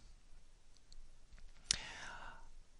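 A computer mouse gives one sharp, close click on a link, set against a very quiet background with faint softer taps and breathy speech.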